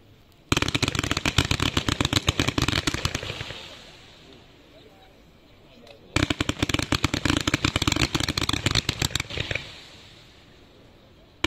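A Tailgate Fan consumer firework compound fires in two long bursts of rapid, loud crackling shots, each trailing off into a fading rumble, with a short pause between volleys.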